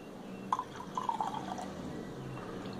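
Water poured for a homemade glass cleaner of vinegar and water, faint trickling and dripping into a container, with a few soft splashes over a quiet background.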